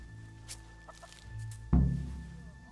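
Chickens clucking in the Kingdom Come: Deliverance video game as they are fed, with soft scattered clucks building to a louder close burst of fowl calls near the end, with no talk.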